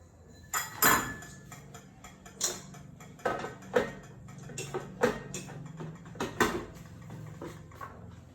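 Cake batter being mixed in a bowl, with brown sugar among the ingredients: irregular clinks and taps of a utensil against the bowl, moderately close, with no talking.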